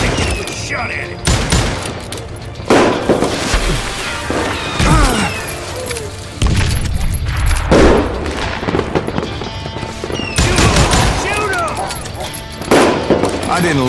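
Repeated gunfire from a Wild West shootout in the video game Call of Juarez: Gunslinger, loud bursts of shots and booms spread across the scene, mixed with game music and occasional voices.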